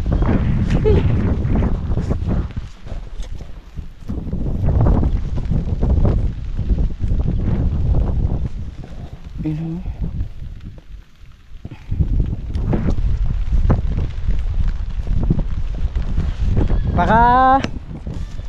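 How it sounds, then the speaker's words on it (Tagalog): Gusty wind buffets the microphone in loud rumbling bursts, with people talking over it and a brief whining sound near the end. "Diyos ko, mahangin."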